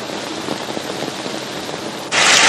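Steady rain pattering on a surface nearby during a storm, turning into a louder, denser downpour hiss toward the end.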